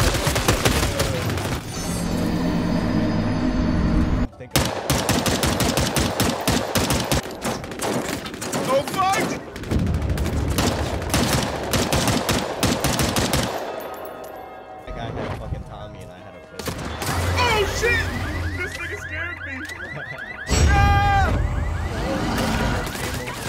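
Dual pistols fire in Fortnite, with bursts of rapid gunshots and loud crashes coming and going in waves under excited, overlapping talk, broken by brief quieter stretches.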